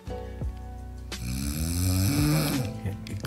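Exhausted man snoring in a few rough, rasping breaths that rise in pitch and strain, close and fairly loud, with no talk over them.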